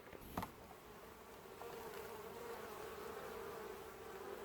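Honeybees drone around their hives during autumn colony preparation, a steady, fairly faint buzzing that carries on throughout after a brief knock near the start.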